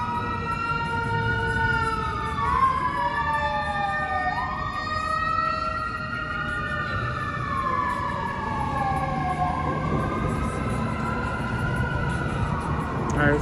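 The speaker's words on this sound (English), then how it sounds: "We got the EMS on my left hand side driving by." An emergency vehicle siren wails through repeated rising and falling sweeps as an EMS vehicle drives past on Bourbon Street in New Orleans, loud against steady street noise, with no talk over it.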